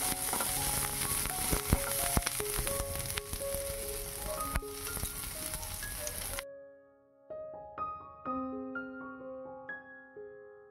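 Chicken frying lightly in a pan, with a steady broadband sizzle for the first six seconds that then cuts out, leaving quieter tonal clinks and faint kitchen sounds.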